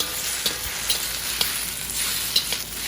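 Drunken noodles stir-frying in a hot pan to brown and char, a loud, continuous sizzle broken by several sharp scrapes and clacks of a utensil at irregular intervals, with no talking.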